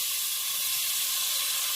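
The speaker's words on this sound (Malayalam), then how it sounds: "ഇനി നമുക്കിതിലേക്ക് തക്കാളി ചേർക്കാം." Tomatoes added to sizzling spice powders in a pan for rasam give a steady, close, bright frying hiss that holds evenly throughout, with no talking.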